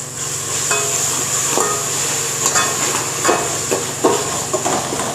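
Spices fry in a pan for chicken dum biryani, a close, continuous sizzle overlaid by rhythmic scraping and tapping as a spoon stirs them, several distinct stir strokes across a few seconds.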